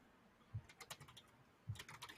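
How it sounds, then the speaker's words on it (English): Someone types on a computer keyboard in two quick bursts of clicky keystrokes, each opening with a heavier key press, close by and alone with no talking. "I was just typing in the chat"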